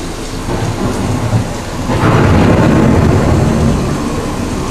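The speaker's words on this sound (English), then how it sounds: "The approaching storm may seem violent and destructive to us, but to nature, it's a new beginning in the cycle of life." An approaching thunderstorm with heavy rain pouring steadily, then a deep rumble of thunder rolls in about halfway through and swells loud over the constant downpour.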